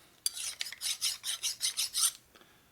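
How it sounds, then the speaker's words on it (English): An external hone rubbing a burr off a 1961 Harley Sportster XLCH transmission or motor part, about eight quick rhythmic rasping strokes, close and alone, in a quiet workshop. "Trying to get my external hone out and give it a go."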